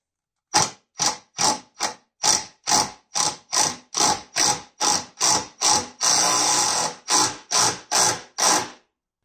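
A riv nut tool installs rivet nuts on a Rocket Bunny GT86 during an LS engine swap, giving about sixteen close, sharp mechanical bursts in steady rhythm, one longer sustained burst near the end, with no talk.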